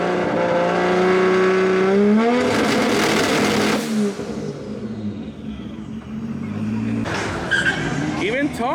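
A 2JZ-powered car on two-step launch control, its engine holding a loud, steady high-rev drone with a burst of crackling pops before settling, then revving again; excited voices talk over it.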